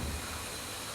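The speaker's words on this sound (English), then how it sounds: "This is, in fact, the oldest working steam engine in the world." The world's oldest working steam engine, 217 years old, at the Birmingham Science Museum: a steady, fairly faint hiss of escaping steam over a low mechanical rumble, with no voices.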